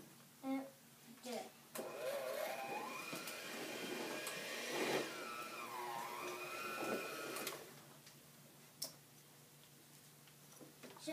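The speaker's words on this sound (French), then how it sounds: "Maintenant, je vais le mélanger avec un mélaxeur." An electric mixer whirs through cubed cream cheese, rising in pitch and strain for several seconds between short bursts, close and fairly faint, with brief clicks and some voice around it.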